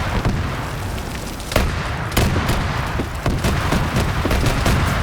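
Auto cannon fire in a military PvP video game match, a rapid series of sharp, loud booms and cracks spaced irregularly through the stretch over a rumbling battlefield background.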